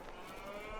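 Cows lowing in Farming Simulator, a steady, continuous moo over the whole moment at moderate distance against a low background hum, with no talking.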